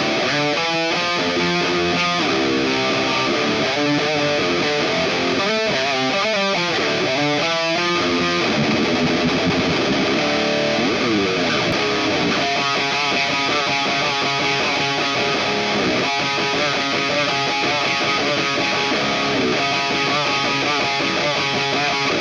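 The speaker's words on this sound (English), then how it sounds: "getting high gain guitar tones out of AMPED Oracle" A heavily distorted high-gain electric guitar through the AMPED Oracle amp sim plays chugging riffs and sustained chords, loud and dense throughout with no voices.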